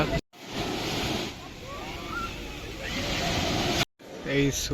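Sea waves roll and wash at Kanyakumari beach at dawn, a broad steady roar with wind buffeting the microphone, cut by brief silences and a short burst of something tonal near the end.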